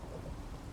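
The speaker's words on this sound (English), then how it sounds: "These storms are getting worse and worse by the day." Minecraft thunderstorm: a steady low rumble of thunder with rain hiss runs through the whole short stretch, moderately loud and alone, no voices.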